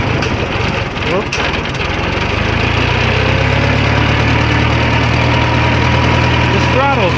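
An engine with a touchy throttle hums steadily, then settles into a deeper, even drone as it is revved, with a brief rising sweep near the end. A voice can be heard faintly underneath.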